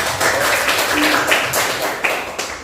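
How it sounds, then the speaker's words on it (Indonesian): A classroom of students claps together in a burst of applause, a dense run of overlapping hand claps lasting a few seconds at close range. "tepuk tangan dulu, Pak"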